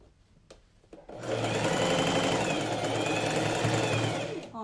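A sewing machine stitches a coat at the shoulder seam, starting after a few soft handling taps and then running in a fast, even mechanical whir with a rapid needle rhythm, close and loud, with no voices.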